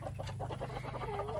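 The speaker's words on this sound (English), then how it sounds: "So here we are in the chicken coop. Here are some of the chickens." Chickens clucking inside a backyard farm coop, a steady overlapping flock chatter of short clucks and calls close by, with a low constant hum underneath and no talking.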